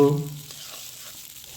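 Onion frying in oil for a spicy prawn bhuna, a loud sizzle at the first touch that quickly settles into a steady, softer hiss in the pan.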